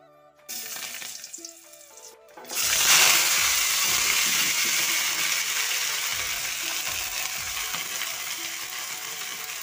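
After a few quiet clanks, a loud steady sizzle bursts out as greens hit a hot pan, hissing continuously and slowly settling.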